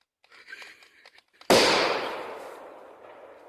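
A putkireiska firecracker bursts with a single sharp, loud bang that decays into a long fading rumble, preceded by faint murmuring voices and quiet moments.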